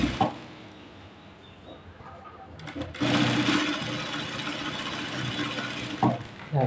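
An electric sewing machine stitches lace onto a blouse, a steady close mechanical whirring and rattling that starts softly and runs louder and continuously from the middle onward, with brief pauses.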